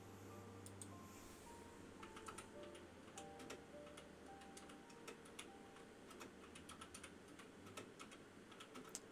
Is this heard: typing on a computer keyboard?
yes